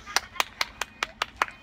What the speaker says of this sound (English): Let's give Nigel a great big round of applause.